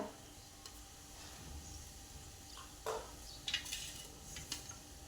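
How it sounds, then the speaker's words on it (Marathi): Curd-soaked green chilies are mixed by hand in a plate, giving faint wet squelches and a few light clinks against the metal, quiet and close with no talk. "त्यात आपण चांगले एकदा मिक्स करून घेऊया"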